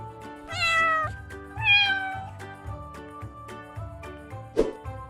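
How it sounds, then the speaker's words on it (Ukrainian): Two drawn-out cartoonish cat meows from a children's farm cartoon ring out over a bouncy background melody, the second rising in pitch and then falling away. "Котик каже Няу, няу."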